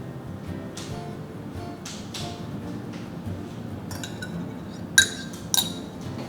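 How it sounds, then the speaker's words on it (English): Beaten egg poured into a bowl of empanada dough, with a few sharp clinks of utensil against the bowl near the end over quiet kitchen background. "We're going to add in our egg that has been mixed"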